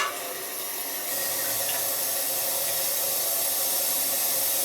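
A small relief valve on a home heating boiler leaks water, producing a steady close hiss of flowing, spraying water that holds constant throughout with no distinct separate drips.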